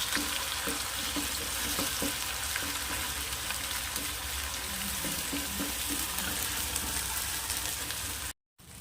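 Ground masala paste with onion sautés in oil for a spicy Vidarbha-style pumpkin bhaji, a continuous moderate sizzle with recurring scrapes of stirring, cutting off abruptly just before the end.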